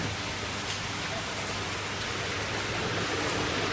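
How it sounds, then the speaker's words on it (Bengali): Heavy rain falls outside a window as a steady, even hiss of dense broadband noise that holds unchanged and moderately loud throughout. "তো অনেক জোরেই বৃষ্টিটা পড়ছে।"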